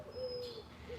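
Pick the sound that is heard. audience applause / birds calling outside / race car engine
birds calling outside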